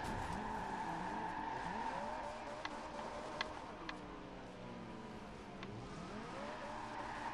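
Ferrari 458 Italia in the Forza Horizon 2 racing game spinning out, a steady engine drone with tire squeal layered over it and a few sharp ticks, loud and continuous throughout.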